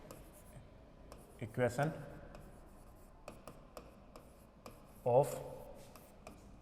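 A pen or marker writes out an equation on a board in a few scratchy strokes and rubs, while someone talks throughout in Hindi.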